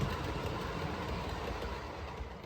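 An OO gauge model train rolls steadily into the fiddle yard of a home layout, a continuous low rumble of wheels on track with faint clicking, close and even throughout with no talk.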